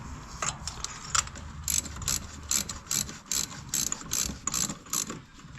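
Ratchet wrench tightening spark plugs on a Toyota Corolla Hybrid, giving a string of sharp, close metallic clicks in short bursts, a few at a time with brief pauses, no talking.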